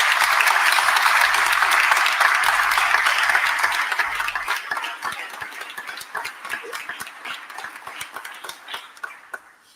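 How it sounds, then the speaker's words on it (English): A crowd at the mayor's address marking the end of the Philadelphia trash strike applauds loudly and steadily, the clapping thinning into scattered claps as it fades out. "Give labor a round of applause"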